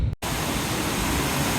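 The Katiki waterfall, seen on a trip to Araku, gives a loud, unbroken broadband roar of rushing water close by. A brief dip comes right at the start, and after it the roar holds steady with no voices.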